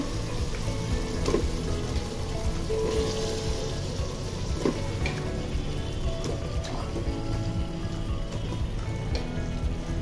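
Shrimp and bottle gourd frying in a pan, a constant close hiss of sizzling with a few soft clicks and splashes on top.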